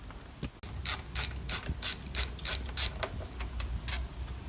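A ratchet fitted with an Allen bit turns out the screws holding an intake cover on a Nissan Altima SE-R, giving a close run of about ten quick, bright clicking strokes.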